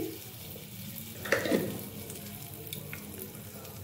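Hot oil sizzles softly in a pan as salt is added for poha, a steady faint hiss with one brief louder burst near the start and no voices.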